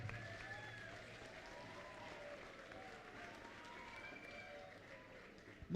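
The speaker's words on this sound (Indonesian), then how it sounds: "Maka tepuk tangan untuk kita semua." Audience applause at an opening Eucharist celebration, a faint, distant, steady patter of clapping from a crowd that carries on throughout, with a sharp louder bump at the very end.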